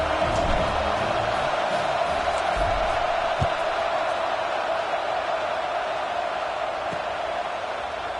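A college football stadium crowd at a Wisconsin–Iowa Big Ten game fills the air with a steady, dense roar of murmur and faint cheering that holds at an even level throughout.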